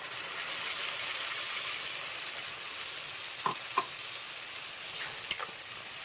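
Ginger, garlic and tomato spice paste sizzles in hot oil for a spicy bhetki fish curry, a steady close hiss with a few sharp stirring clicks near the end.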